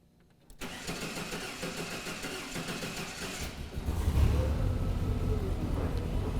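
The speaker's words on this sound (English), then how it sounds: "we're going to start the engine up." A forklift engine cranks and catches after a quiet start, settling into a steady mid-pitched idle that swells louder and rougher in the second half, close to the microphone.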